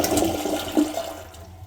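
A water-saving power-flush toilet flushes in one strong, close rush of water that tapers off within under two seconds, with no voices.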